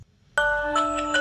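A Samsung phone alarm sounds abruptly after near silence, a bright chiming ringtone with sustained tonal notes and small repeated accents, close and clear.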